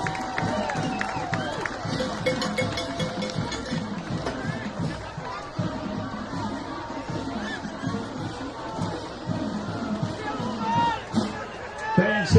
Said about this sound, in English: Let's get a sportsmanship round of applause for both schools.